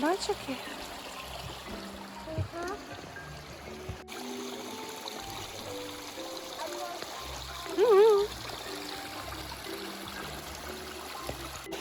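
Spring water trickles and splashes steadily nearby as it falls from a height in a forest, a soft continuous babble, with children's voices chattering over it throughout.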